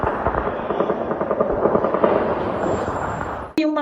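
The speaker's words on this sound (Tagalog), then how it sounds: "tila mga pagputok ng mga baril na ang naririnig" Rapid crackling bursts of gunfire pop continuously, dense and rattling, then stop abruptly before a brief tonal sound.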